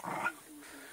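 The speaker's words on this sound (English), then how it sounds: "What a growler." A dog gives a short, close growl at the start, then quiet room noise follows.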